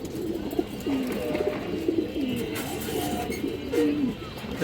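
Pigeons coo repeatedly in soft rolling phrases at close range over steady background noise. The birds include rare and restless pigeons of black jhak, giyachulli, kaldom, bagha, safchila, high flyer and palla lines.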